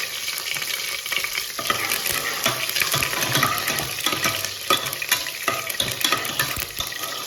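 Spices sizzle and crackle in a spoonful of ghee in a pan while being stirred, giving continuous loud frying with scraping stir strokes throughout.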